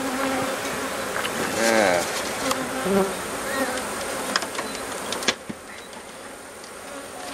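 Honeybees buzz close by around an active hive, a steady droning hum with individual bees whining past. A person says a short word and speaks briefly over the buzzing.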